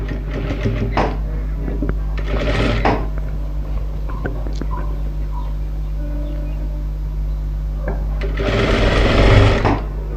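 A sewing machine stitches a blouse hem near the neckline edge in short bursts, with a longer run near the end, under a steady low hum and faint background sounds.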